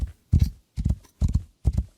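Horse hooves clip-clopping in the video game Rising World, four evenly spaced, fairly loud thuds in a steady walking rhythm with nothing else heard.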